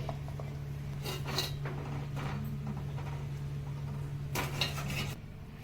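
Soft, cooked yam pieces are scooped from a cooking pot into a bowl, giving a handful of light clinks and scrapes of a utensil against metal over a low, steady background hum.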